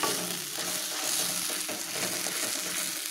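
Tomatoes cooking in oil for parotta salna, with a dense, continuous close-up sizzle and stirring scrapes that stay loud and steady across three seconds.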